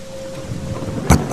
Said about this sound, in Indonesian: petir yang cukup besar terdengar mengagetkan.